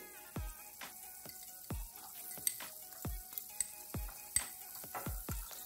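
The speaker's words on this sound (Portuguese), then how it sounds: "Vou deixar dourar esse alho" Garlic browns in margarine in a pan for a potato gratin, giving a steady close sizzle broken by repeated sharp taps and scrapes of a utensil against the pan.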